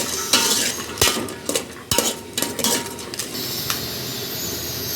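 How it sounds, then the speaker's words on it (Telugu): A spoon clinks and scrapes in a pan while pulao ingredients, including green peas, are stirred together, several sharp metallic knocks over a soft frying sizzle. "అన్నీ వేసుకొని కలిపెట్టుకోవాలండి"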